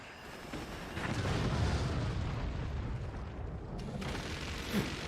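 A howitzer fires in the strategy game Forts, a deep rumbling blast that swells and lingers as a dense roar, with a smaller pop near the end.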